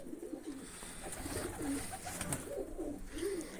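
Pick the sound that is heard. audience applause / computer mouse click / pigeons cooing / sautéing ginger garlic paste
pigeons cooing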